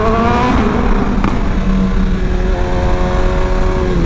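A BMW S1000RR sport motorcycle engine roars through a tunnel, loud and reverberant, holding a steady high-revving drone with a brief dip as the rider carries on.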